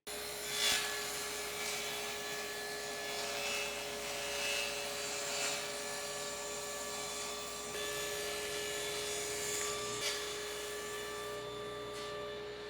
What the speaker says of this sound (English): I'm going to rip a strip off of my piece of scrap plywood